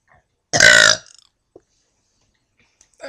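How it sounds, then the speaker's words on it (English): A single loud, drawn-out burp from a person, lasting about half a second, followed by near silence with a faint small noise and a brief sound at the end. "A burp attack."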